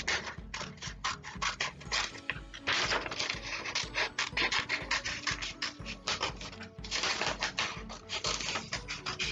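Scissors snip through paper to cut out a swirl for a hurricane craft, making a close, busy run of rapid crisp cuts and rustles that continues almost without a break.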